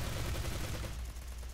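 Rapid Tommy Gun gunfire in the video game Bullet Force, a dense continuous burst of shots that fills the whole moment and eases slightly toward the end.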